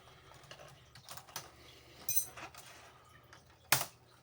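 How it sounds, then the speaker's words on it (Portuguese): A Dell Inspiron 15 P63F002 laptop keyboard is pried loose from its latches. Quiet plastic clicks and light taps are scattered throughout, ending in a sharper snap, with no voices. "Prontinho, soltamos o teclado."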